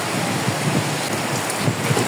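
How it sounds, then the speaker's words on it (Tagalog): Steady, heavy rain roars continuously with a broad hiss, loud and close throughout, in Bulacan, with no pauses and no voices. "Grabe, ang lakas ng ulan."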